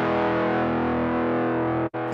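A sustained electric guitar chord through the overdrive 1 setting of a Zoom 3030 effects unit, gritty and loud, briefly cut off near the end before ringing again.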